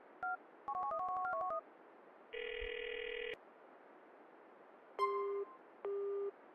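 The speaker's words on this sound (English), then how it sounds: "We then had an even cooler version in GTA 4 and the DLCs, where you activated cheats by calling a phone number" A phone dials a cheat number in GTA 4: short clusters of keypad tones, a sustained dual tone, then two ringing beeps, all crisp and isolated against a faint hiss.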